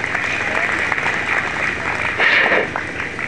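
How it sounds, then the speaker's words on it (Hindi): Audience applause for the vice principal at a school communal harmony seminar, a steady wash of clapping through the whole stretch that swells briefly near the end, with some talk mixed in. "जोरदार तालियां एक बार सर के लिए।"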